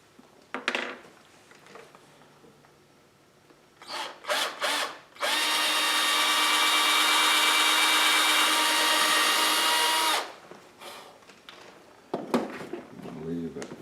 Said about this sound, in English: Find a good spot to make the drill hole, which I'm going to use about right here.